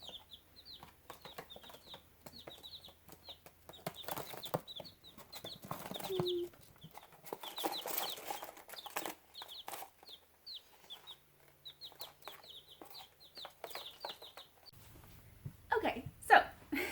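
Laying hens of mixed breeds cluck in soft, repeated bursts, with occasional rustling and a few louder calls near the end.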